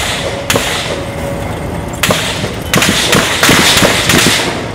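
Firecrackers set off at police on a street: several loud, sharp bangs crack out at irregular intervals, close and echoing over a constant background roar.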